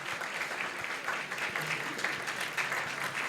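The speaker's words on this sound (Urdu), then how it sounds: "ذرا صحیح والیاں تالیاں بجاؤ۔" Congregation at a church service applauding students becoming disciples, a dense, steady wash of many hands clapping throughout, moderately loud with no talk over it.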